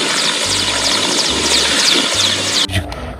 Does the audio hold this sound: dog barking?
no